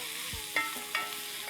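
Spiced masala of chili powder, cumin and garam masala is stirred in a hot pan for egg biryani: scraping spoon strokes over a steady sizzle, close and clear.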